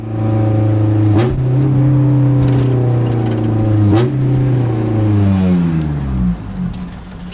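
Loud Honda S2000 with no power steering climbing a driveway to a tire shop: a strong, harmonic engine note that rises and falls through gear changes and throttle blips, close and dominant, easing off near the end.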